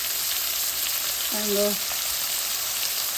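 Curry leaves fry in hot oil in a pan, a steady loud sizzle throughout, with a brief tonal whine partway through.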